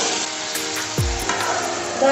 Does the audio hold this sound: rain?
no